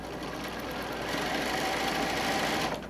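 Sewing machine running steadily as it back stitches the seam of a quilt-as-you-go machine cover at a half-inch allowance, a continuous close mechanical whir with rapid needle chatter throughout.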